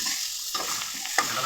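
Boiled pork pieces frying in hot oil, giving a steady close hiss with a couple of brief stirring scrapes and no talking.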